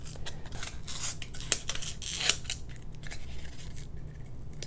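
A razor blade's back edge runs along scored foam board, then the centerpiece tears away, giving quiet scraping and rasping strokes with two sharp little snaps, close and alone.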